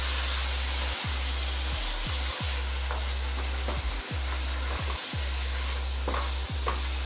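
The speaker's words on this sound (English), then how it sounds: "So we're gonna let that fry for a little bit and come back." Ground beef fries in a pan for a cheesy hamburger casserole, giving a constant hissing sizzle broken by several sharp scraping knocks as it is stirred.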